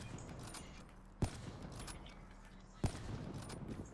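Two sharp single gunshots from a sniper rifle in Black Ops 3 quickscoping, spaced about a second and a half apart over a low, busy game background.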